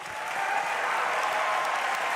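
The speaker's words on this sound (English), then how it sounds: "Well-deserved applause from the audience as well." Sustained audience applause fills the hall at the WCA World Championship 2025 Rubik's cube final, a dense, even wash of clapping that swells in and holds steady at full strength.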